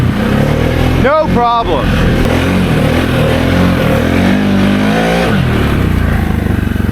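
A 2023 Can-Am Outlander XMR700 G3 quad with sway bar deleted and 32-inch Aztec tyres revs hard in high range for a wheelie, its engine droning loud and steady while a rider speaks briefly over it.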